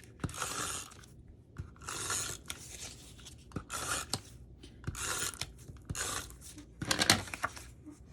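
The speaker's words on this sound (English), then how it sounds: "I'm going to add my tape." Adhesive tape is pulled and pressed onto a handmade Christmas paper folio in a series of short, raspy tearing and rubbing strokes, about six bursts spaced roughly a second apart, quiet and close.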